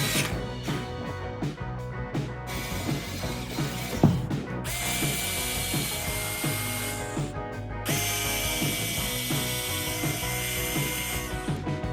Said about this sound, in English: making a mark with a pencil, and then drilling a hole so that I can screw in the tags